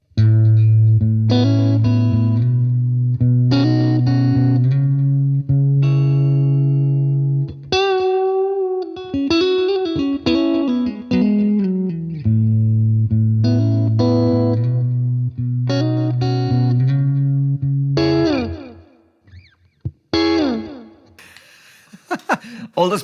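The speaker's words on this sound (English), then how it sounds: "All the modulated tape delay. Some modulated tape delay. Some spring reverb." An electric guitar plays sustained, shimmering chords and single notes through an effects pedal with modulated tape delay and spring reverb, loud and close, with wavering pitch and long echoing tails before a quieter, sparser ending.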